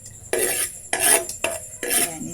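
Garlic and onion sautéing in hot oil, heard as four distinct bursts of scraping and sizzling as a utensil pushes them around the pan, close and moderately loud with quiet gaps between, no voices.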